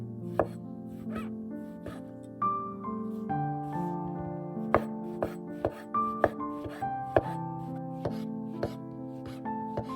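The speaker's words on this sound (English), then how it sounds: "Next, chop up 250 grams of your favorite mushrooms." Button mushrooms being chopped with a knife on a board: a run of irregular, fairly close knocks over steady background music.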